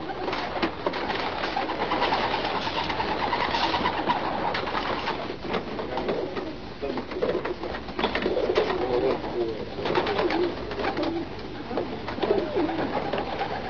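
Pigeons coo steadily inside a loft with compartments for young birds, several soft overlapping calls continuing throughout at close range with no talking.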